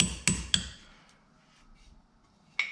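A socket is tapped against an old outboard motor trim bushing to drive it out, giving four sharp metallic knocks: three close together, then a pause before the last.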